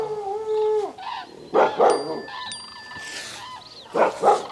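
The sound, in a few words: dog barking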